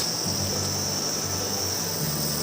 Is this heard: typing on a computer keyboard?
no